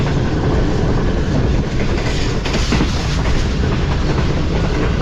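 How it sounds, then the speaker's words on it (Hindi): The Shalimar Express runs at about 103 km/h, its loud continuous rumble and rushing wheel noise steady throughout, with a faint rhythmic clatter of wheels over rail joints. "इस वक्त तकरीबन 103 की स्पीड में ट्रेन हमारी दौड़ रही है"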